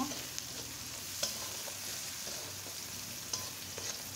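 Chopped dried chillies sizzling in hot oil with onion and garlic, a steady close hiss of frying punctuated by a few light stirring taps, with no talking.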